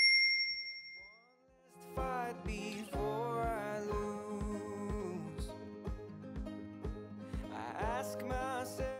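A bright notification bell chimes several times in ringing, overlapping tones over a steady rhythmic backing beat, with clear sustained pitches that decay between strikes.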